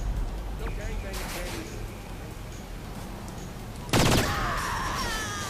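Rifle gunfire in the video game Saints Row IV: a loud, sharp burst of shots near the end, cutting through steady game background noise and someone talking.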